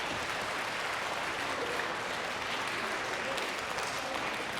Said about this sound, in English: If you guys like any of this stuff, you should clap.